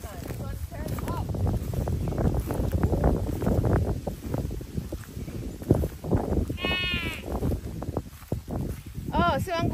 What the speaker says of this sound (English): Is it a goat up there?